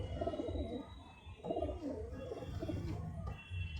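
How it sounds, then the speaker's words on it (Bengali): Madrasi pigeons cooing in a home loft, several low throaty coos overlapping and repeating steadily, close and fairly loud against a faint background hum. "কাঁচা হলুদ চোখের পায়রা আছে নটটি।"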